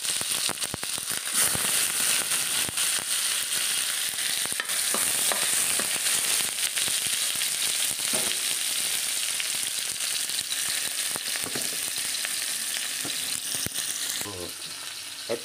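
Tomatoes sautéing in hot oil for a Filipino beef kinamatisan dish, a steady loud sizzle and crackle running throughout, with faint scraping stirs and no talk.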